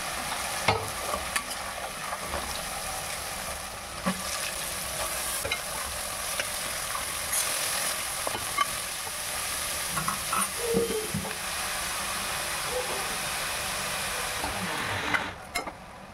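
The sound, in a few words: stirring and frying ground turmeric, cumin and coriander masala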